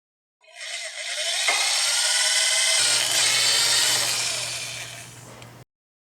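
A power drill whirs steadily for several seconds as it drills into an engine's rear main seal, its pitch shifting partway as it bites in, then stops abruptly.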